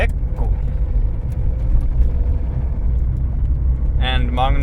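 A car drives along a road in Norway with a steady, loud low rumble of engine and tyre noise throughout, close inside the cabin, and a voice speaks briefly near the end.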